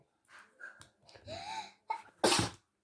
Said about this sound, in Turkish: ne hapşırıyorsun? Hapşırıyorum.